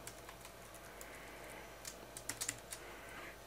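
Fingers type on a computer keyboard while entering a vCenter administrator username: sparse, quiet key clicks with a short cluster of sharper taps toward the end, heard alone in a quiet room.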